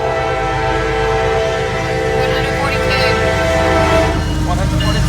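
A CSX coal train of 112 coal cars passes close and loud with a continuous heavy rumble and rail clatter, and voices talk over it.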